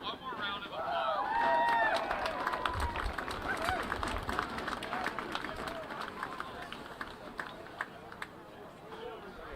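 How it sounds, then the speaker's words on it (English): Stadium crowd at a university lacrosse semi-final applauding the athletes, a broad wash of clapping and murmuring chatter that swells early and then holds steady at a moderate distance. "Let's give them all one more round of applause."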